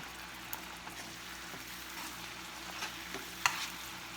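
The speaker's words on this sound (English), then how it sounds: "Let them sizzle a little bit." Fresh ingredients for cassava fritters with crab and shrimp frying quietly in a pan, a soft steady sizzle with a few faint clicks and no talking.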